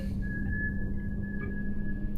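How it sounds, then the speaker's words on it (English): A single sustained whistled tone, steady and fairly clear, runs alone over a constant low hum in a tense creepypasta horror narration. "And then the whistling began again."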